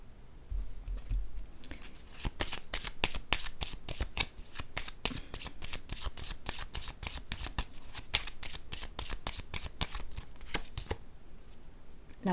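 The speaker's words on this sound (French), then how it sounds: "Je vais déposer une autre carte sur elle." Playing cards are shuffled and laid down in a fast, crisp series of close, dry flicks and snaps that run almost continuously, with a few quieter gaps near the start and end.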